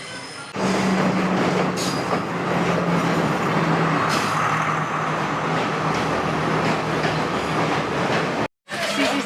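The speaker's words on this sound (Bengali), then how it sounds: "আমাদের ট্রেন চলে এসছে ওই যে দেখতে পাচ্ছেন" A train arriving at a station between Nuwara Eliya and Ella, Sri Lanka, rumbles loudly and continuously past at close range, with a low steady hum and faint wheel squeal, without talk.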